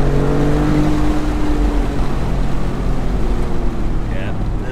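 Maserati MC20 Cielo supercar engine droning under open roof on a road beside a wall, a loud low steady hum with some rising revs, while someone talks over it throughout.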